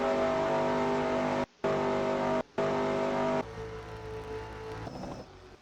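Race cars roaring past at Talladega in a racing video game, a loud sustained engine drone with steady high-revving tones, cut by two brief gaps before the pitch shifts as the pack passes and fades slightly at the end.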